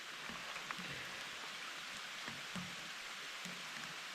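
Steady storm rain hisses across the whole stretch, with scattered soft drips and taps standing out now and then.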